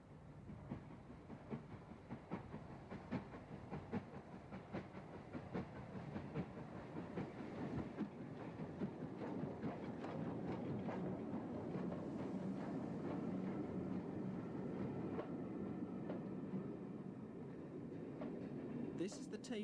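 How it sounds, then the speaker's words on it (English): A train runs along the banks of the River Tay toward Perth, its steady low rumble and rhythmic wheel clatter building slightly louder and holding constant throughout, with no voices over it. "From Dundee, the train ran along the banks of the River Tay to Perth"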